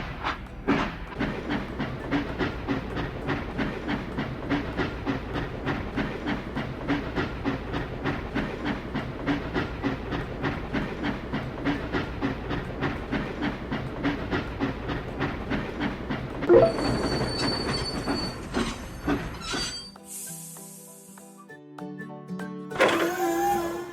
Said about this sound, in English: Let's send the train to the depot.